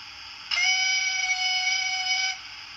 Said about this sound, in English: I do love the whistle on these Fowlers. It's just a very nice little whistle.